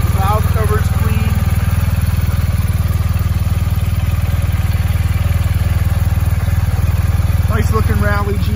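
A 2019 BMW R1250GS Rally motorcycle with a boxer engine runs at a steady, loud idle with a deep throbbing pulse throughout, while someone talks briefly over it near the start and the end.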